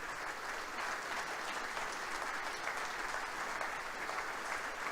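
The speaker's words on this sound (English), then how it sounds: "one more round of applause for our tremendous speakers" An audience at an evening event on Montana's Mansfield legacy gives the speakers a final round of applause, a steady, fairly distant wash of many hands clapping throughout.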